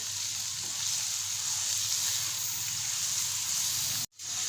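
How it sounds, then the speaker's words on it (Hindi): Minced meat keema fries in a pan with onion, garlic and tomato, a steady close sizzling hiss of moderate loudness that cuts out abruptly for a moment near the end, with no voices. "कीमे को भी हमने अच्छे से फ्राई करना है।"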